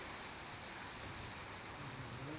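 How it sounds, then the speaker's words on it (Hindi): Steady rain falling after a spell of hot weather, an even soft hiss of drops on surfaces, faint and continuous with no voices. "आखिर बारिश होने ही लगी और होनी ही चाहिए"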